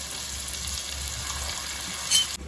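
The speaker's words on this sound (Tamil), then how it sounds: "தக்காளி கொஞ்சம் வதங்கிடுச்சு. இது கூட நம்ம கத்திரிக்காய் மட்டும் சேர்க்குறோம்." Tomatoes and brinjal sauté in a pan for Tamil koozh, giving a steady close-up sizzle and frying hiss with faint stirring scrapes and a brief louder clatter near the end.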